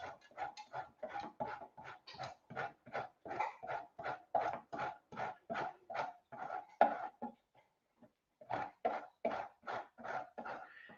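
A dog barks in a quick, steady series of sharp, close yaps, pausing briefly near the end before resuming, with no talking.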